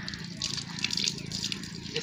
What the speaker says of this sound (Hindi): ये पानी का नलका है